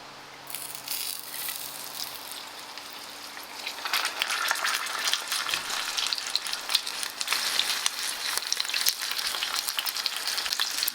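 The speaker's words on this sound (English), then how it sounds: "Not looking for a really hard sear on this, just a light sear on all the sides." Beef roast searing in hot lard, a steady crackling sizzle that starts soft and swells louder after a few seconds, dense and continuous with scattered pops.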